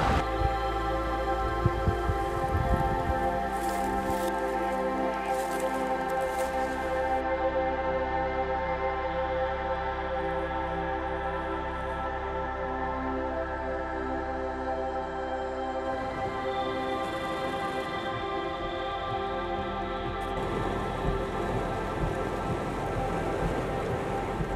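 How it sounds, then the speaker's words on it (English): Steady rain pours down during a severe thunderstorm brewing at the western end of a park near the Warrumbungles in central New South Wales, with a low rumble underneath that eases off partway through. No one speaks. "Severe storms are brewing."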